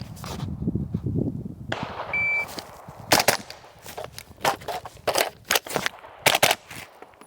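A string of sharp, dry suppressed shots from a Q Honey Badger .300 Blackout AR rifle cracks out in uneven succession, fairly close, over a rustling outdoor background with no talking.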